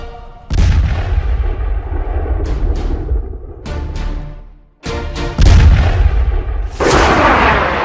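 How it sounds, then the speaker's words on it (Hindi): Heavy blasts and booming explosions from an Israeli F-35I airstrike bombing Iranian military targets, loud and continuous with sharp repeated impacts, a brief gap, then a fresh burst of roaring detonations. "इजरायल अपने F-35I स्टील्थ फाइटर से ईरान के ठिकानों पर चुन चुन कर बम मार रहा है।"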